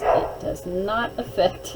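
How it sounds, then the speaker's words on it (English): A couple of short, yappy barks from a small dog, fairly close, overlapping with a person talking. "Just ignore my puppy dogs if you can hear them in the background."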